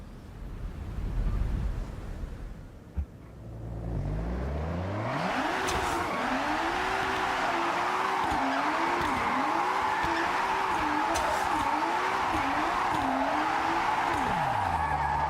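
A 1,000-horsepower Toyota Supra in Forza Horizon revs hard in a drift: the engine climbs and surges in repeated rising-and-falling waves while the tires squeal and slide under it, loud and close, after a brief quieter start.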